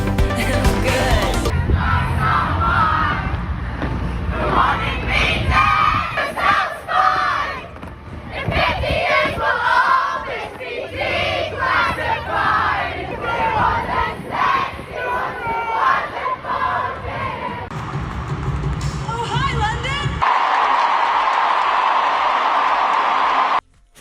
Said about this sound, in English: the crowd was chanting.